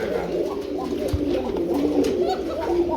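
Pigeons at a pigeon market coo softly in a low, continuous murmur, with several birds calling over one another close by against a busy background.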